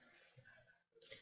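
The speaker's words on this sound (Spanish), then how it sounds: "Y daremos clic" A single sharp computer mouse click lands near the end, crisp and close, after a stretch of very quiet faint background sound.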